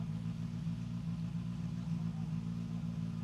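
A Skoda Fabia rally car sits at the start line of a stage at the Rallye du Var, its engine idling with a steady, low, throbbing hum heard from nearby.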